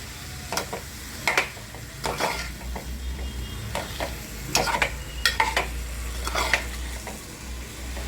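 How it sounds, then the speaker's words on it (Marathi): Capsicum and potato vegetable being stirred with masala in a pan, a low frying sizzle punctuated by repeated sharp spatula clacks and scrapes against the metal. "ह्यानं पूर्ण असं हलवून घ्यायचं सगळ्या भाजीला मसाला लागला पाहिजे"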